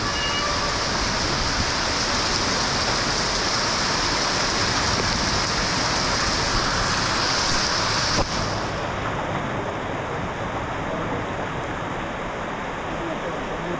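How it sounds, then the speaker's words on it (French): Heavy rain pouring down on a street in Sidi Bel Abbes, Algeria, a dense steady roar of water with splashing runoff, loud and continuous and slightly quieter in the last few seconds. "la pluie est forte."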